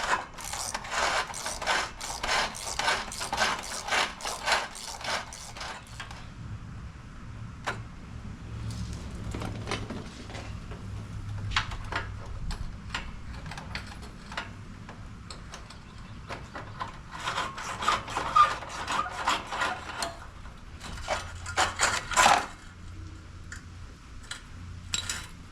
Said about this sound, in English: Now that it's loose, I can just do it with the socket.